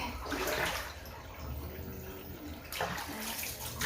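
Water runs from a shower while a dog is bathed, a soft, steady hiss of spray that dips briefly in the middle and then returns. A faint voice is barely present underneath.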